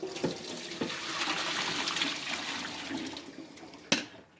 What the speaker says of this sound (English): We'll dump our vinegar here.